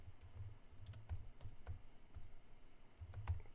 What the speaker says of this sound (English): I'm typing with one hand.